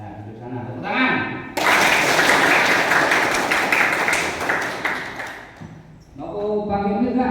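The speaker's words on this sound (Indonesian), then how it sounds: "Tepuk tangan." Students at an opening ceremony at a vocational high school burst into loud, dense hand clapping that lasts about four seconds. Voices talk and murmur before and after it.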